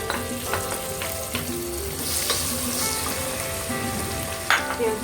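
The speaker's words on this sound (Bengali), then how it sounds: "লবণ দিয়ে আমি পেঁয়াজটাকে দাম করে ভেজে নেব" Onions frying in oil with bay leaf, cinnamon sticks and cardamom, for chicken cooked with spinach: a steady close sizzle throughout, with several brief sharp crackles and spoon scrapes, no talking.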